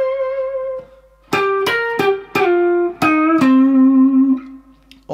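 Electric guitar plays the opening two bars of a 12-bar blues solo in C: a few sustained, bent single notes, then a string of sharply picked notes that ring and slide downward, clear and alone.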